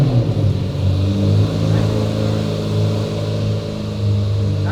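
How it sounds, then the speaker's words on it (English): A car engine idles high after a cold start, a loud, steady deep rumble with slight swells in revs throughout, close by and without talk over it. "That's a nice cold start"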